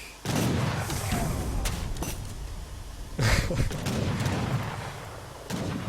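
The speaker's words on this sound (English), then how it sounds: "The cannon is targeting a wall, that's kind of a mistake there" A cannon in the Age of Empires III strategy game fires at a wall, giving several heavy booms and thuds at uneven intervals amid the noise of battle.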